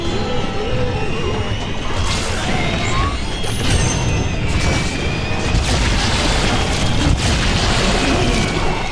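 Repeated booming explosions from the video game Dead Space: Extraction, heavy crashes and bursts layered over dense, continuous game noise, loud and sustained across the whole stretch.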